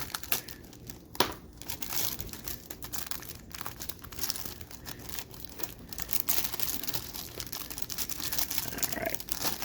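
A 1990 Fleer basketball rack pack wrapper is torn open by hand, giving continuous close crinkling and crackling of plastic with a sharp rip near the start and steady rustling throughout.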